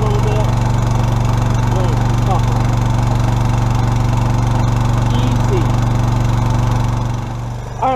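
Motor driving a water pump that fills a pipe for a waterfowl impoundment, a loud steady engine drone close by that sags slightly under pressure, with a dip near the end.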